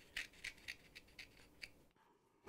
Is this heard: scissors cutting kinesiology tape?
yes